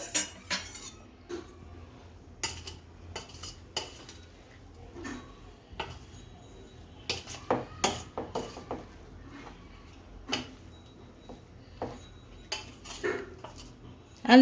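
Pava (flattened rice) being mixed with turmeric, red chilli powder and amchur powder in a steel bowl for bhajiya, giving scattered spoon clinks and light scraping taps at an uneven pace, fairly quiet, with no talk.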